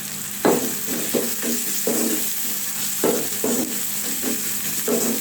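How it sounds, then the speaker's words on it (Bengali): A spatula stirs potato and bitter gourd stir fry in a pan, with a steady run of scraping, rustling strokes about every half second over a faint background hiss. Close and moderately loud, with no talking. "আস্তে আস্তে নেড়ে চেড়ে নিব।"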